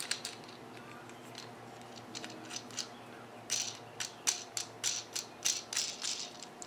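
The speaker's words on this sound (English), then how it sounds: "This takes a while to unscrew, to be honest." Plastic knobs on a Polaroid bike mount being unscrewed, a faint run of small ratcheting clicks that turns into a sharper, evenly spaced series of rattling turns in the second half, with no talking.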